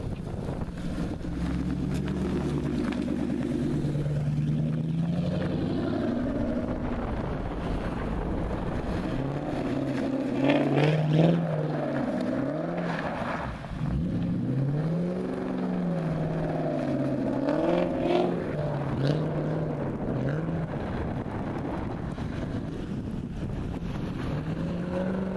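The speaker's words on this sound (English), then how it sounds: "There's hella cars driving by." Many cars drive by on a snowy road with a steady, rushing drone of passing traffic, with several swelling whooshes as vehicles go past nearby and wind buffeting the microphone throughout.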